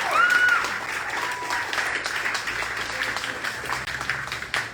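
A crowd at a Fairfax Democrats rally applauds steadily for Sadie Perez, the clapping sustained and fairly loud throughout, with a brief tonal whistle-like sound near the start.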